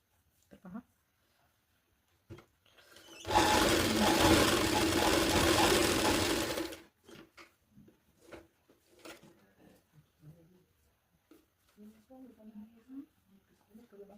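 A sewing machine stitches a strip onto a small girl's blouse in one continuous whirring run of about three seconds. Before and after it, someone speaks, with light handling sounds of the cloth.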